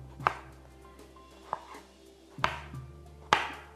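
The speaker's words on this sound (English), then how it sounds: "So I'm going to slice these." A knife slicing tomatoes on a cutting board, four separate crisp knocks spaced about a second apart, close and quiet with no talking.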